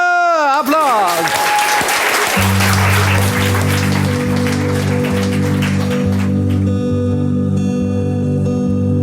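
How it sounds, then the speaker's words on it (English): Studio audience applause for guests on a New Year edition talk show, starting together with a descending sung or musical tone, then giving way to sustained music chords that cover the clapping. "a big applause for my two guests here"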